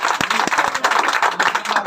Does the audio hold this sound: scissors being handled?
no